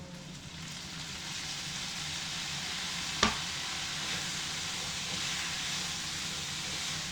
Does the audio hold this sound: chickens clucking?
no